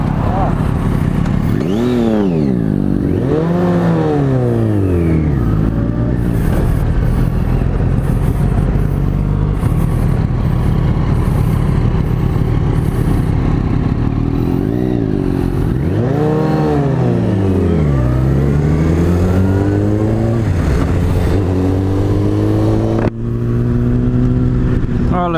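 Triumph Daytona and Yamaha FZ1 Fazer motorcycles ridden on the road, engines repeatedly revving up and dropping, loud and close with steady wind rush and riders talking between pulls.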